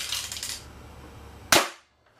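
A single sharp airsoft gun shot rings out close and loud after a stretch of soft rattling handling noise, then quickly dies away.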